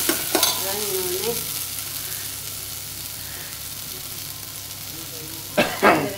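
Green chilli and pumpkin stirred in a hot pan for a Srirangam-style pumpkin paruppu. A steady close sizzle runs throughout, with scraping spoon strokes near the start and again near the end, and no talk.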